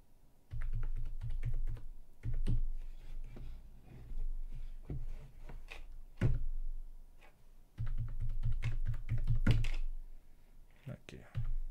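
A new password is typed on a computer keyboard while setting up Kali Linux on a Raspberry Pi 5, giving bursts of quick, close key clicks with short pauses between them and someone talking at times.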